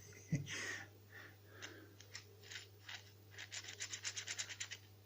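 A metal block slides back and forth in a homemade filing machine, producing faint scraping strokes that speed into a quick rhythmic series of rasps near the end.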